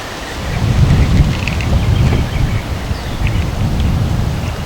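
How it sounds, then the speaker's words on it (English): Steady wind rushes and roars against the microphone in low rumbling gusts, loud and continuous with no talking, outdoors in a West Virginia orchard. "kind of windy here."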